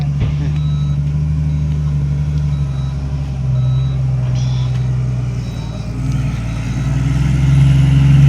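A ten-wheeler truck backs up with its reversing alarm beeping in a regular pattern over a low diesel engine rumble, while people shout directions nearby and the engine swells toward the end.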